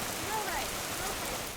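Pouring rain falls outside an animal rescue shelter near Pottsville, a steady dense hiss lasting throughout without pause, fairly loud and even, with a faint voice briefly audible beneath it.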